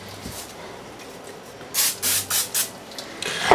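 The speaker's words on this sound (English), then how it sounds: "I'm going to take my plastic wrap and spray it with Pam." Pam cooking spray hisses onto plastic wrap in four short, even bursts close by, after a soft rustle of the wrap.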